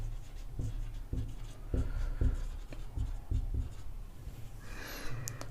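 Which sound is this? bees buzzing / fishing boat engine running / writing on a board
writing on a board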